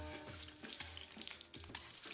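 Eggs fry in piping hot mustard oil in a stainless steel pan, a close, continuous crackling sizzle with small popping spatters and faint scraping stirs throughout. No voices.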